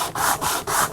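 Wood of a custom guitar body rasped by hand with coarse 40 grit sandpaper, about three long, rhythmic back-and-forth strokes, close and loud with nothing else heard.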